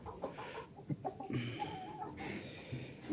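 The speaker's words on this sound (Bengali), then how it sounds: "এটা হচ্ছে আমার মোরগ।" A backyard rooster, one of a small flock of about two dozen chickens raised on a small scale, gives short clucks and throaty calls close by, mixed with other fowl and farmyard noise.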